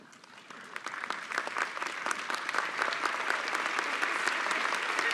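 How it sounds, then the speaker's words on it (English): An audience stands and applauds Dr. Linda Sickberg at a BSU School of Nursing pinning ceremony; dense clapping quickly swells from a few hands into sustained, loud applause. "please join me by standing as you're able and applauding Dr."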